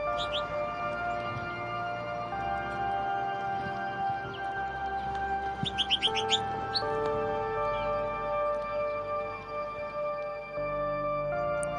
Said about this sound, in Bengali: হ্যাঁ বন্ধুরা এটা হলো ফিঞ্চ পাখি দেখতে ছোট